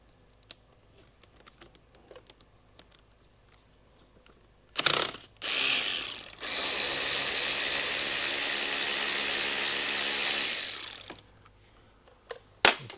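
Ratchet loosening bolts on a Honda QA50 scooter: quiet clicks first, then a loud burst followed by a steady, sustained mechanical whir of about five seconds, ending in a few sharp clicks.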